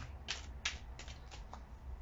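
Tarot cards are shuffled in a few quick riffling bursts, short papery flutters spaced about a third of a second apart, fairly close and faint over a quiet room hum.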